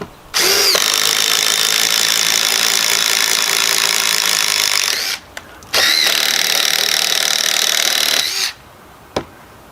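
A DeWalt DCF885 20-volt cordless impact driver boring a half-inch hole through a 2-inch piece of treated wood, whining loud and steady in two long close runs separated by a brief pause, with a short click at the end.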